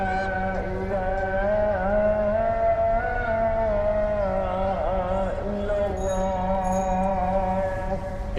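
A voice chants a long, melismatic Islamic call to prayer over a loudspeaker in Dhaka, Bangladesh, steady and sustained, with a slight outdoor echo and faint background hum.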